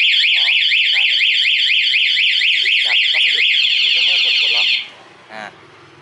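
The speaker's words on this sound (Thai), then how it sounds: "รถจะไม่ร้องจะไม่รบกวนชาวบ้านจะร้องต่อเมื่อมีคนแทงกุญแจบิดปุ๊บ" The anti-theft alarm of a Honda CBR150i motorcycle blares close and loud with a rapid warbling electronic siren for almost five seconds, then cuts off, followed by a single short chirp.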